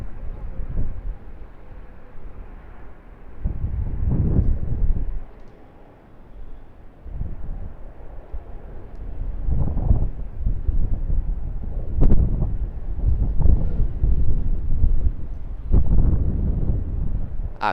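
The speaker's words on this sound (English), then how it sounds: "Hopefully the wind dies down for our 747 arrival from Honolulu" Gusty wind buffets the microphone outdoors at Sydney Airport, a steady low rumble that swells into louder bursts and roars every few seconds, with no clear aircraft sound standing out.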